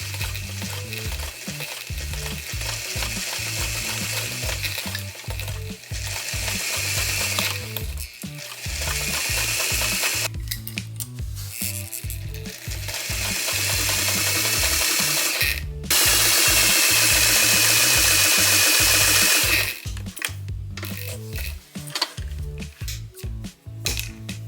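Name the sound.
sewing machine sewing darts and yoke fabric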